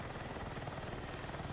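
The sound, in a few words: helicopter in a video game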